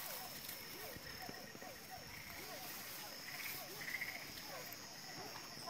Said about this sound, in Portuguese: Tem muito sapo cantando, Fê.